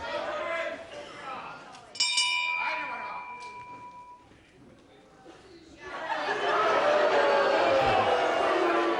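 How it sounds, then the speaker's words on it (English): A ring bell clangs to start round one of a UK wrestling bout, a sharp metallic ding ringing out over a chattering arena crowd, followed by a quieter lull and then a swelling roar of crowd noise. "Right on the bell now, round 1."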